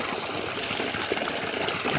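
Oil cake solution gushes out of a drum in a loud, steady rush of liquid that pours without a break throughout.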